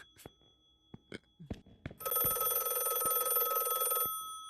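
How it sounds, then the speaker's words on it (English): A telephone rings in a short, bright electronic burst lasting about two seconds, preceded by a few sharp clicks and knocks in a quiet room. "Where's the phone? I hear it, but it's like in my head."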